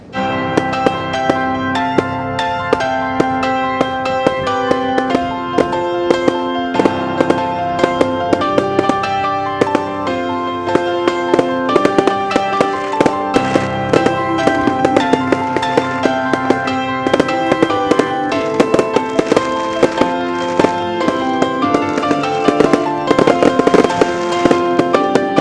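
Bonfire night fireworks burst over Merseyside, a dense, loud run of cracks and bangs that repeats without a break and rings out against a constant tonal backdrop.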